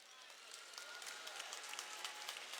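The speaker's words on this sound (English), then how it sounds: "yeah, you can clap for that." Graduation audience applauding at a high school ceremony in Nashville, a dense, fairly faint wash of clapping with scattered louder claps, heard at a distance throughout.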